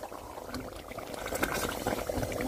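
Nigerian beef stew being stirred in a pot, a soft continuous bubbling and liquid churning with faint scraping, fairly quiet and steady, no talk.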